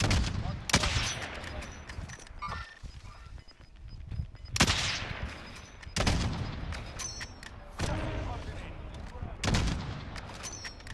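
Heavy gunshots ring out in Call of Duty Warzone, five loud cracks spaced a second or two apart, each with a long booming tail over a steady battlefield rumble.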